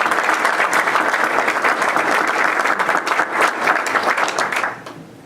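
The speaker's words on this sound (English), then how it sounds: "Give yourselves a wonderful round of applause." A crowd at a county government address bursts into loud, dense applause that holds steady for several seconds and then fades out quickly at the end.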